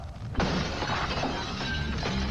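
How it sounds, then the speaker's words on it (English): Window glass on a ground-level floor shatters in a movie scene: a sudden loud crash, followed by a sustained wash of breaking and tinkling glass. "break the window on the ground level floor"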